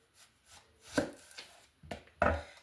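A knife slices onions by hand against a cutting board in a series of close, crisp chops, irregularly spaced and growing firmer toward the end, with no talking.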